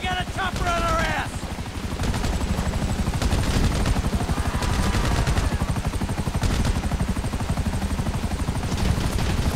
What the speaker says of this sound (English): we got a chopper on our ass!